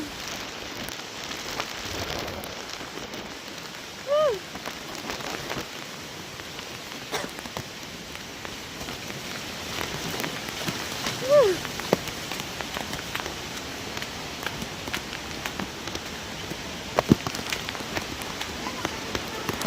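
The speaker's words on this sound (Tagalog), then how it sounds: "Grabe, sakit sa mukha ng ulan." Heavy typhoon rain pours in a steady, dense roar throughout, with a couple of brief high chirps rising above the downpour.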